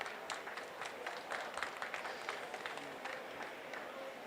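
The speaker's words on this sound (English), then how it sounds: "Can we just give Hadassah a round of applause?" An audience at a climate conference event claps for a presenter, a moderately faint, scattered round of applause with uneven bursts of hand claps.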